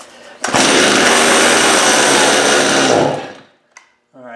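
A STIHL MS250 chainsaw fires up after a rope pull and runs at a loud, steady buzzing rev for about two and a half seconds before cutting out, followed by a brief clack.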